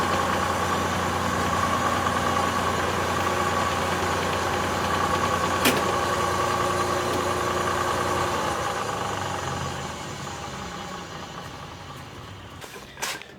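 A car engine idles at around 400 RPM, a steady close rumble that fades somewhat toward the end and ends with a couple of light knocks.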